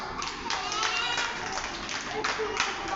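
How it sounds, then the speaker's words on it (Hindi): Children clap their hands during a classroom-style rhythm lesson, a series of sharp irregular claps over a few seconds, with kids' voices chattering underneath. "ताली कैसे बजती है, बजाओ।"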